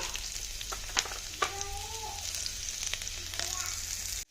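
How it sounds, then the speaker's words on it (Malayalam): Chopped garlic and shallots fry in coconut oil, a steady close sizzle with a few sharp pops and stirring clinks, no talking over it. "വെളിച്ചെണ്ണയിലാണ് ടേസ്റ്റ് ഉണ്ടാവുക കേട്ടോ ഇതിക്ക് നമുക്ക് അരിഞ്ഞു വെച്ചിട്ടുള്ള വെളുത്തുള്ളി ചെറുള്ളി ഇട്ട് കൊടുക്കാം"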